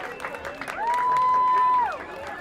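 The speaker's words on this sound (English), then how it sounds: "Did you hear all this screaming going on?" A talk-show studio audience screams and applauds, a loud wash of crowd noise with one sustained high shriek rising clearly above it for about a second before fading back into the cheering.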